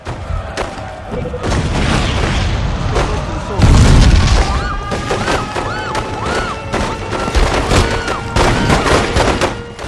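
Gunfire in The Godfather 2 video game: a loud booming shot amid dense game sounds and a steady soundtrack, with a person talking over it.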